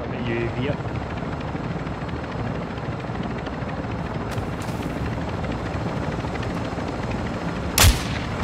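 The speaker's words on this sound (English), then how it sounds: "The chopper's coming in, that's who." A helicopter arrives in DMZ, a steady rotor drone and engine rumble filling the scene while distant gunfire crackles and a couple of sharp shots ring out, with players talking over it.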